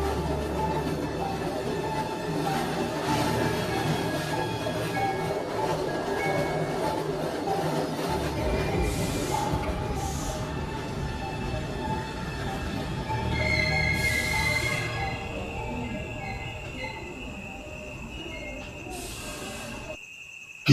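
A train runs steadily in a spooky animated tale, a continuous mid-level rumble with faint hissing and tonal squeals, the texture shifting partway through.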